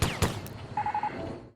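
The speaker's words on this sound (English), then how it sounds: "it's not actually the gunshots that kill him, it's the GoldenEye 64 sound effects" GoldenEye 64-style gunshot effects firing in the video game Sniper Elite: two sharp shots at the start, then a quick rapid burst of beeping tones, all crisp and fairly loud.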